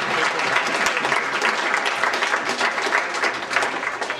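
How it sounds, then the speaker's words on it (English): Sustained applause from an audience at a student government assembly, many hands clapping steadily and densely throughout, fairly close and loud. "So if you want to stand up and we'll clap for you."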